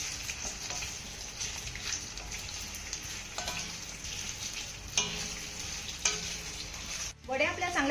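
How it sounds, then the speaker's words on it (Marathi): Leftover-rice vadis being stir-fried in a hot tempering, giving a steady close sizzle with scraping stir strokes throughout and a few sharper clinks, with no talking. "आता ह्या वड्यांना आपण 1 ते 2 मिनिटं चांगल्या परतून घेऊया."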